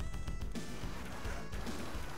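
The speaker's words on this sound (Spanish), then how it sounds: "Aquí hay una aspiradora que se ha vuelto loca. Ha roto los cristales." Glass shattering as a runaway vacuum cleaner smashes windows in the video game Moonwalker, several loud crashing hits over a busy, dense game soundtrack.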